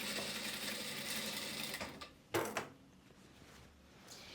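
A sewing machine stitches a seam on a mermaid dress with vertical panels, starting at the centre. A faint, steady whir runs for about two seconds and then gives way to a few soft mechanical clicks.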